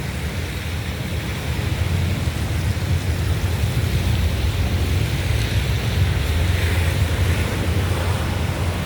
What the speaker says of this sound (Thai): เก็บภาพบรรยากาศในวันฝนพรมมาเผื่อเพื่อนๆนะครับ